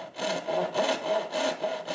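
Rhythmic hand sawing of dovetails in wood for a chest, steady back-and-forth strokes repeating about four times, close and clear with no talking.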